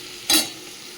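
Potatoes frying in a pan for mutton curry, a steady sizzle with one brief louder burst from a stir or toss, close and loud.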